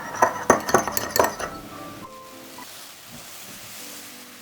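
An egg yolk and a teaspoon of milk are whisked in a bowl, giving a quick run of bright clinking taps for about a second and a half before the room goes quiet.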